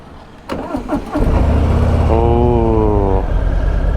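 A 2022 Harley-Davidson Sport Glide motorcycle with keyless ignition cranks briefly, then fires up into a loud, deep, rumbling idle close by.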